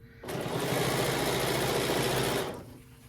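Sewing machine running steadily while stitching a serpentine quilting line on a Christmas advent calendar fabric panel, a continuous buzzing whir that starts after a brief pause and stops cleanly near the end.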